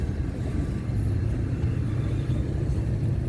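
Freight train trash cars rolling past steadily in Zanesville, Ohio, a continuous low rumble at moderate distance with no voices.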